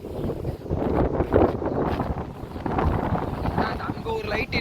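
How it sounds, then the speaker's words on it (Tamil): Strong wind blows across the Kanyakumari seashore, a loud, continuous roaring rush that buffets the microphone in steady gusts with no clear pauses. "காற்று பயங்கரமாக அடிக்குது."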